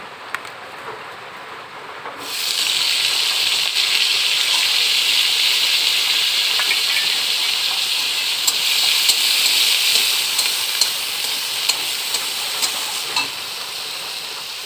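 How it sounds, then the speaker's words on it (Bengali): Potatoes frying in a pan for a Bengali fish-head and greens dish, a quiet start then a sudden sustained hissing sizzle with occasional faint clicks, close and steady, with no speech. "আলুটা আমার ভাজা হয়ে গেছে"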